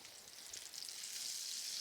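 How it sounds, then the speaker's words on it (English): Butter sizzles in a pan with banana morsels and a sprinkle of sugar, a steady close hiss of frying that grows slightly louder, with no talking. "So my butter's sizzling."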